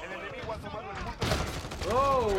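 Gunfire rattles in the video game Call of Duty Modern Warfare, a burst of shots rising midway and carrying on under a player's voice.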